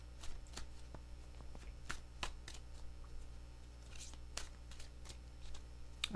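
Close, quiet shuffling of a tarot deck: a series of short papery riffles and snaps spaced irregularly over a faint constant hum, no voices.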